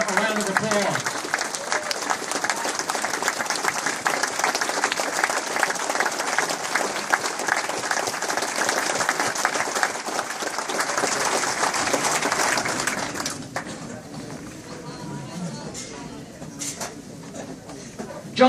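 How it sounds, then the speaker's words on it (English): Sustained applause from a standing audience at a political speech against the SAFE Act, dense and loud clapping for about thirteen seconds before dropping sharply to a quieter room murmur. "Why don't we stand and give these representatives a round of applause?"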